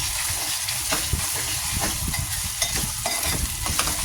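Garlic ginger paste sizzles steadily in a hot pan for an egg masala, with a spoon scraping and stirring through it in soft, repeated strokes up close.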